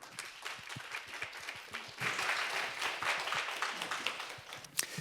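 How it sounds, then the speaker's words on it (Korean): An audience claps in welcome as a speaker is invited to the stage at a Korean lecture on designing a balanced AI transition framework, with dense, steady applause that swells about halfway through and continues for several seconds. "박수로 모시겠습니다"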